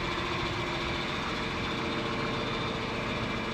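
A small farm tractor idles with a steady, continuous low rumble, close and even throughout, with no voices.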